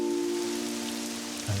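Steady rain falls in the video game Pokemon Pokopia, a continuous hiss of patter with game music tones sustained underneath, short and uninterrupted.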